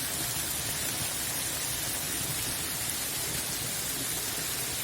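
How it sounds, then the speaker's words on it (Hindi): Dense, unbroken roar of heavy torrential rain pouring down in Narnaul, Haryana, loud and steady from start to finish. "आज नारनौल हरियाणा में जोरदार बारिश, मूसलाधार बारिश।"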